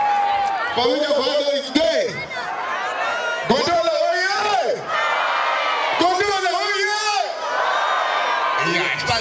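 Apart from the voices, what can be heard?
carnival audience applauding and cheering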